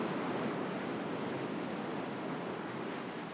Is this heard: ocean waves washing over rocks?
yes